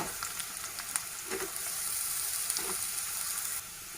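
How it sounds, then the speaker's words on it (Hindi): Chopped onion and carrot frying in oil for poha pulao, a steady close sizzle with a few faint pops and clinks, fading slightly in the last moment. "प्याज डालूंगी फ्राई करने के लिए। अब इसके बाद मैं गाजर डालूंगी"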